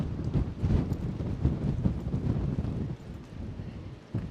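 Strong coastal wind at Charlestown, Cornwall, buffets the microphone as a continuous low, rumbling roar that surges and eases without pause.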